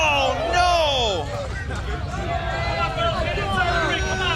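Crowd at a PWA pro wrestling show during Leesburg Bike Fest, a dense roar of many voices with rising, wavering shouts, loud and close, sustained through the whole moment without a clear chant rhythm.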